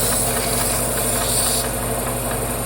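A power sander drones in a sculpture studio, softening the edge of a sculpture with a continuous loud, steady motor whine and hiss that stays unbroken throughout.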